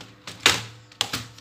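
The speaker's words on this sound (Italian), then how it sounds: "eccola qua la tastiera" A computer keyboard being handled at a PC desk setup, with a few close, sharp plastic knocks and clacks in quick succession, loud and alone.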